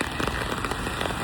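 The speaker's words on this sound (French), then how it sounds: "je suis sous le parapluie parce qu'il pleut un peu." Light rain pattering steadily on an umbrella overhead, a dense, even crackle of small drops close by with no voices.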